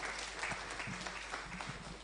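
An audience at a university gathering celebrating a sisters' impact project claps for a speaker, a continuous fairly faint patter of many hands held at an even level throughout.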